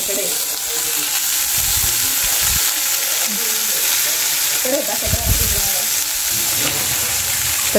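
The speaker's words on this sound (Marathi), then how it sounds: "लालसर मिरच्या झाल्यानंतर हा किस टाका असा" Grated potato drops into hot oil already sizzling with red chillies, giving a loud, continuous close-up frying hiss broken by a few thumps and scraping stirs in the pan.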